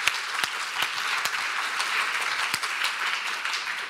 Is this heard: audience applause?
yes